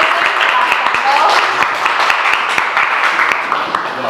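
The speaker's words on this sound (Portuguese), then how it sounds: "Palmas para ele." Audience at an inclusive-voices seminar claps for the introduced professor, a steady close patter of hand claps that holds evenly for a few seconds with a murmur of voices beneath.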